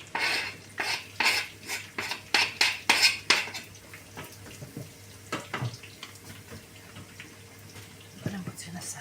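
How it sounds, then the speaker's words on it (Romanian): Onion sautéing in a pan, stirred with a utensil: a quick run of rhythmic scraping, clattering strokes against the pan, then quieter sizzle with occasional knocks, under light background noise. "să dinstuim ceapa"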